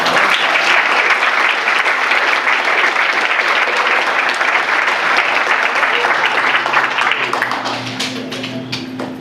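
A room at an East Central ISD school board meeting applauds Ms. Hirtle: loud, continuous clapping from many hands that holds steady, then thins and tapers off in the final second.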